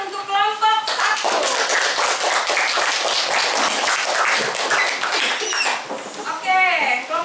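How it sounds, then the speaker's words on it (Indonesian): Applause for a group of students in a classroom, a dense burst of clapping from many hands lasting several seconds, with a voice speaking briefly before and after. "Tepuk tangan untuk kelompok 1."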